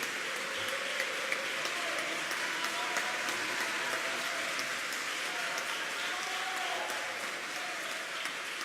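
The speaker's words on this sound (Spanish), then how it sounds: "Aquí hay una verdadera guerra de aplausos." Sustained applause from an audience following a gynecologist-obstetrician's presentation, a continuous fairly distant patter of many clapping hands with faint murmuring voices underneath.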